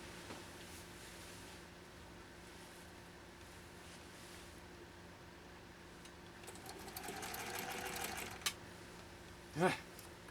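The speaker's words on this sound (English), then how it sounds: "Again, sewing it with a leather needle." A 1930 Singer 101-4 sewing machine stitches with a leather needle, a quiet steady whir that builds into a louder burst of fast stitching near the end, followed by a couple of sharp clicks.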